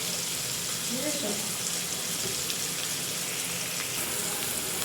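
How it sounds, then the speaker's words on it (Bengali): Onions fry with salt in a pan in a home kitchen, making a continuous hissing sizzle at moderate distance with a faint voice briefly in the background. "পেঁয়াজটা তাহলে তাড়াতাড়ি ভেজে যাবে"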